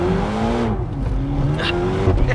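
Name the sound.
Ferrari GTC4Lusso T V8 twin-turbo engine accelerating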